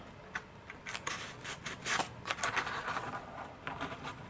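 Tape being pulled and pressed onto a model glider wing, giving close, crackling, rustling bursts of varying loudness with no speech.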